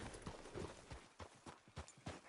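Horse hooves clip-clop at a steady trot in Red Dead Redemption 2, a regular, fairly close beat that stays fairly quiet, with no talking.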